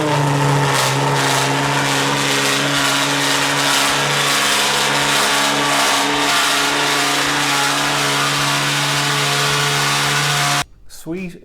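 Loud, droning car engine running hard after a cold start, a deep steady exhaust roar through a loud exhaust that cuts off abruptly near the end.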